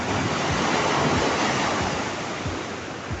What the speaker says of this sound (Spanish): El mar rompiendo aquí, haciendo la erosión.